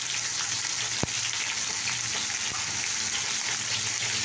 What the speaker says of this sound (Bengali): দেখো আলু এটাও ভাজা করে নেবো